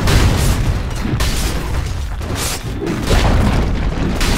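Dota 2 match with a steady, rumbling low boom as a defensive tower is destroyed, sustained loud rumble across the whole moment with a brief dip near the middle and no talk.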